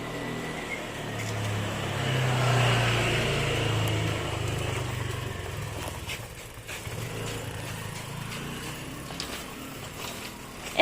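A motorcycle passes by on a street near a school court, its engine rising to a moderate peak and then fading, with steady background noise.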